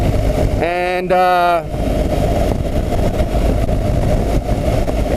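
A BMW GS 1200 motorcycle engine idles steadily and close by with a low, even rumble throughout, while a voice speaks briefly near the start.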